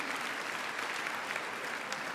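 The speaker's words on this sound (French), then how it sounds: "je pense qu'on peut l'applaudir et applaudir les équipes du lycée Léonard de" A room full of people applauds the Léonard de Vinci high school teams, an even, moderately quiet wash of clapping with no break across the whole span.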